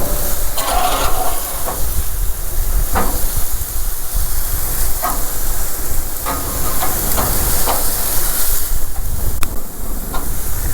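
Barbecued Chinese pork coated in barbecue sauce marinade sizzles loudly on a hot grill, a steady close hiss with occasional pops and faint clicks throughout, no voices.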